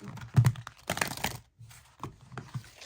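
Tarot cards from a Zodiac Tarot deck are shuffled by hand, giving bursts of quick riffling and slapping with a brief pause before more softer shuffling, close and alone.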